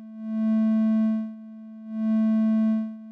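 A pure synthesizer oscillator tone with bright harmonics, sounded twice at a steady pitch, each note fading in and out smoothly with a short gap between, clean and alone.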